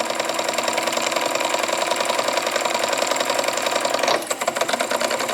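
Jensen Model 75 toy steam engine running under a small load, a steady rapid mechanical chatter with a fine repetitive beat, close and continuous, with a brief change in tone near the end.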